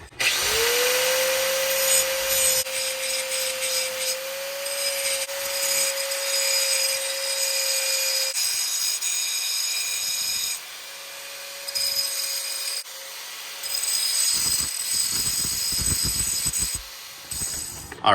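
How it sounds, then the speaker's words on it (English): An angle grinder cuts down protruding wheel studs at the rear wheel of a 2024 C8 Corvette during a spacer install, a loud steady high whine that runs in long passes with brief dips and restarts, with no talking. "we're gonna have to grind the studs down"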